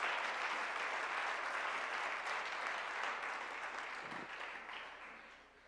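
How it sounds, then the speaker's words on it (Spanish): A church congregation gives sustained, dense applause during an Easter resurrection service, a steady wash of clapping that holds for several seconds and slowly fades toward the end. "Dale un fuerte aplauso a nuestro Rey."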